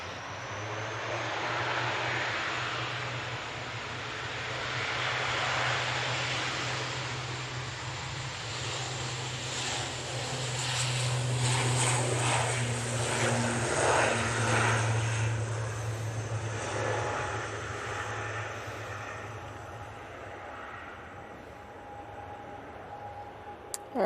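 A propeller aircraft departs Manchester Airport for Belfast, its engines droning with a steady low hum and broadband roar that swells in the middle and slowly fades, heard at a moderate distance.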